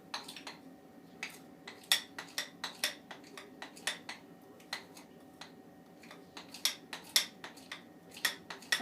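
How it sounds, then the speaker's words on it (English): A utensil mixes blue-dyed frosting in a bowl for cupcake decorating, producing quiet, irregular clinks and scrapes that repeat in a loose rhythm, close and fairly faint. "you just keep mixing it until you get a bright blue color"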